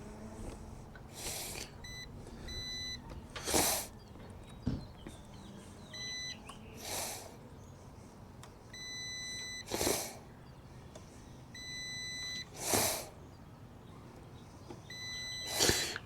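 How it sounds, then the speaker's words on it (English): A multimeter set to ohms gives steady continuity beeps while fuses are tested under the hood of a Jeep WJ. The repeated tones sit over a broadband background hiss and are punctuated by several loud, clunky bursts. "So if it completes the circuit, it beeps."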